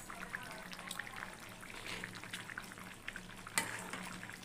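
Fish curry with eggplant bubbling in a pot on the stove, a steady soft simmer with sputtering and crackling and a brief sharp clatter near the end, with no voices.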